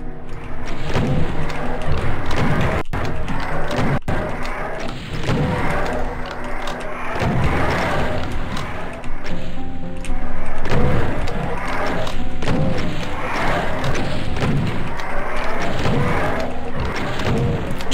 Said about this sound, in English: otherwise I'm gonna get pummeled by all those rockets